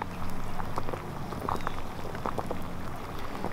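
A pot of water bubbles at a rolling boil on a soup can rocket stove with a perlite insulated riser, a continuous close, soft bubbling wash broken by scattered small pops.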